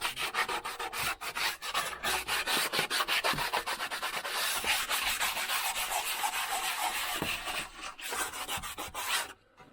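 Plywood being sanded by hand during electrical work, a rhythmic run of quick rasping strokes, close and fairly quiet, each scrape repeating at a steady pace before stopping abruptly.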